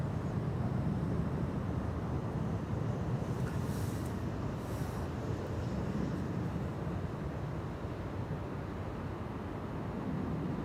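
A KLM Embraer 175 airliner departing Amsterdam Schiphol gives a steady, fairly distant low roar of jet engines. The roar holds level for the whole stretch with no voices.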